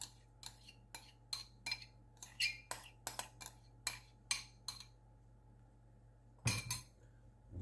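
Spoon clinking and scraping against a bowl while rice is mixed with feta, pesto and garlic: a quick, irregular run of bright taps, then a pause and one louder clatter near the end, close and clear over a faint steady hum.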